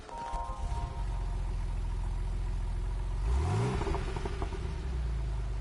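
Ferrari Dino engine revving in Gran Turismo 7, a steady mid-pitched drone that climbs into a rising rev sweep about halfway through, alone without talk.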